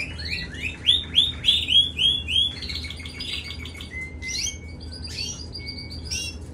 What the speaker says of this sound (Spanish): Mira cómo canta el pájaro ese.